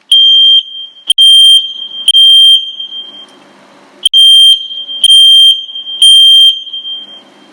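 A smoke alarm at a fire station sounds a loud, piercing high-pitched beep in a repeating pattern of sustained tones broken by short gaps, close and dominant with nothing else around it.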